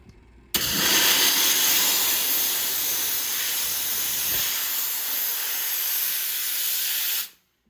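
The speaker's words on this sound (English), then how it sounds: "we're going to steam it off right quick" A loud, steady jet of steam hisses against gold-plated silver jewelry scrap, starting abruptly and holding a constant rushing spray for several seconds before cutting off sharply.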